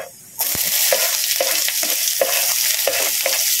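Garlic and onion sauté in a hot pan, sizzling loudly and steadily, while a utensil scrapes through them about every half second. No voices are heard.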